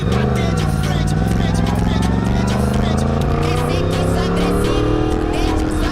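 A Yamaha MT-10 motorcycle with its CP4 engine runs loud and close on small country roads, the engine note rising steadily as it pulls through low gears, with wind rush and a rider's voice partly over it.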